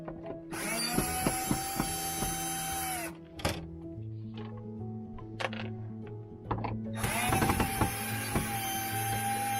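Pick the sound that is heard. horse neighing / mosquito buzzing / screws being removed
screws being removed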